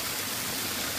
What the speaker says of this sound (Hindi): इनफैक्ट देखो यहाँ से पानी आ रहा है